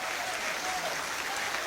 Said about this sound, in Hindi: एक बार तालियां अच्छी उठा दें।